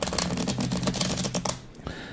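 Rapid riffling clatter of cards being shuffled, a dense burst of crisp flicks that stops abruptly near the end.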